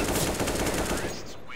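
Rapid automatic gunfire in a Counter-Strike-style competitive esports match, a dense continuous burst of close shots that cuts off near the end, with a commentator's voice faintly underneath.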